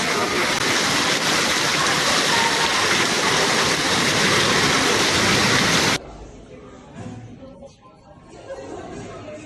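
Loud, dense rushing floodwater pours like a waterfall steadily for several seconds during a Moscow flood, then cuts abruptly to a much quieter scene with faint background murmur.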